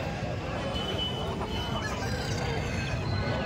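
Native country chickens and roosters at a festival-time poultry market, clucking and stirring in a dense, steady mix of close bird noise and broadband market bustle, with faint voices mixed in.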